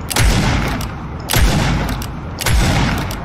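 Gunfire from a video game shooting course: three heavy, booming bursts of shots at steady intervals, loud and close, with no voices.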